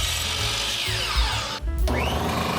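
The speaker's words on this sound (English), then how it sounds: "head over to the miter saw so we can cut it to a more manageable size" A miter saw cuts through a cedar fence plank with a loud, steady whining buzz that briefly dips as the blade passes through the wood, then returns, heard close up with no voices.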